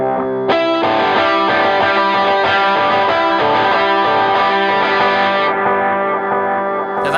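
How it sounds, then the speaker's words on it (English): Electric guitar played through a Blues Driver overdrive pedal and a delay pedal, a sustained, gritty, densely layered tone with echoing repeats that rings continuously at steady loudness, with no talking. "the intro part is just the blues driver and the delay pedal, just to kind of give a bit of a sound like this"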